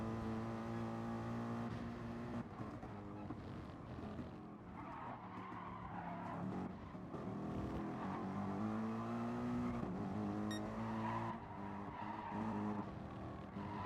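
Race car engines in Gran Turismo Sport rev hard and continuously, their harmonic whine rising and falling through shifts, with tyre squeal and other cars roaring close by.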